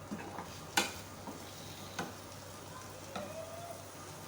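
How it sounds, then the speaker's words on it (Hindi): Chicken pieces fry in a pan with a low, steady sizzle. A few stirring clatters and scrapes cut through at irregular moments, and the whole thing is faint and close. "इतना इसको फ्राई करें।"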